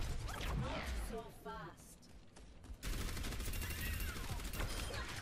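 Orisa's rapid-fire gun in the video game Overwatch lets off dense, loud bursts of shots over game effects, pausing briefly near the middle before resuming. A person talks over part of the firing.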